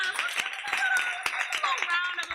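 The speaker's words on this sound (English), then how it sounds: "round of applause" Live audience at a podcast taping at Wakandacon 2018 bursts into applause and cheering, steady and dense for a couple of seconds with voices mixed in.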